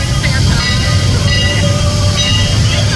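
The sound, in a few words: Strasburg Railroad steam locomotive 89 running around the train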